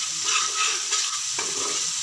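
Pabda fish curry masala being sautéed in oil with green chillies, a steady close sizzle and fry with soft scraping of stirring throughout.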